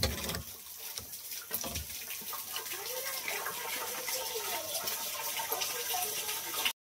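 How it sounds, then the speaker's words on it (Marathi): Water runs steadily into a lower storage barrel at an evening farmhouse, a soft continuous hiss and trickle heard faintly from a short distance without a break. "आता खालच्या बॅलरमध्ये पाणी लावलंय"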